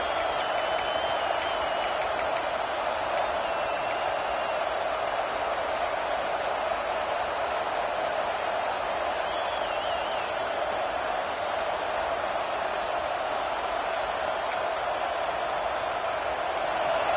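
A stadium crowd at a football game keeps up a steady, dense roar from start to finish, with scattered whoops and faint whistles rising over it.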